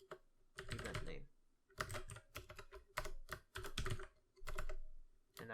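Code is typed on a computer keyboard in bursts of rapid, close-up key clatter separated by short pauses, loud and dry with no talking.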